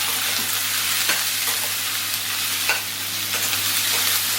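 Chopped tomatoes and cashews fry in hot oil for butter chicken, a steady close sizzle with a few soft stirring scrapes and no voices.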